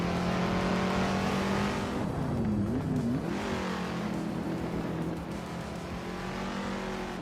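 Engine of a 1972 De Tomaso Pantera GTS in a race: a steady, loud engine drone that dips and swoops in pitch for a moment mid-way, then holds steady again, with no voices.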